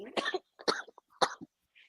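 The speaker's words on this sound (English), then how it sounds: "So I'm coughing." Three short, sharp coughs in quick succession, fairly close, with a small throat noise at the end.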